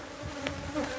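Bees buzzing steadily at an open beehive during hive work, a close, continuous insect drone with slight swells in loudness.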